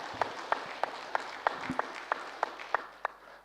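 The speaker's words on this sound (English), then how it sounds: "Please clap then." An audience claps in slow, evenly spaced single claps, about ten sharp beats over a few seconds in a spiritual talk session, fairly close with no speech over them.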